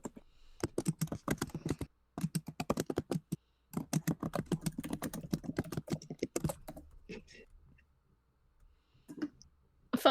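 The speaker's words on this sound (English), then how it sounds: "I can never type without seeing my keyboard, so this is in fact a nightmare." Close, fairly quiet typing on a computer keyboard: bursts of rapid key clicks broken by short pauses, thinning out to a few scattered taps toward the end.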